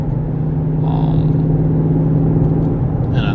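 A 2018 Ford GT350 cruises on the road, its engine a steady, loud low rumble with a constant drone, close and unbroken throughout, with no talking.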